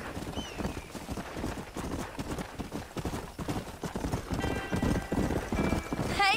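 Horse hooves clip-clop steadily at a walk in the Red Dead Redemption video game, with a brief whinny near the start and another at the end, over a continuous background mix.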